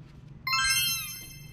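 A newborn kitten or its mother cat gives one clear, close meow that rises and then trails off, standing out over low background hum.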